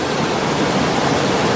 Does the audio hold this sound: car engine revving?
no